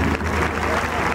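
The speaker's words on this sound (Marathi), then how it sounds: "टाळ्या वाजवायच्या सगळ्यांनी" Brief burst of audience clapping at a school Republic Day flag-hoisting function, a dense crowd applauding steadily at moderate volume for about a second.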